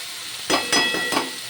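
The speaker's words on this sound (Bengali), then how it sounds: "এইবারে দেখুন এপিট ওপিট করে উল্টে একদম মাছের কাঁচা গন্ধ কিন্তু দূর হয়ে যাবে" Small fish fry in oil in a pan, turned over side to side, with three sharp bursts of loud sizzling rising out of a softer hiss.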